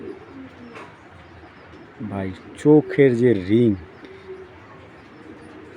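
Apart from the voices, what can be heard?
breeding racing pigeons cooing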